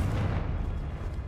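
A Confringo spell explodes in the video game Hogwarts Legacy as a loud, deep, rumbling boom that fills the short moment and fades slightly at the end.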